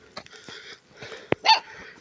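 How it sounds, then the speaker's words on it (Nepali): Small dog giving a few short, sharp barks and yips, close and fairly quiet, spaced irregularly with pauses between. "मेरो कुकुर हेर्नु"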